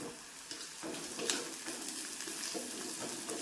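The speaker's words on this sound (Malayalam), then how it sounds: "ഹൈ ഫ്ലെയിമിലിട്ടാണ് ഞാൻ മൂപ്പിക്കുന്നത് കേട്ടോ" Shallots, garlic and ginger fry on high flame with rock salt, giving a continuous hissing sizzle broken by the scrape of stirring, heard close and fairly quiet without speech.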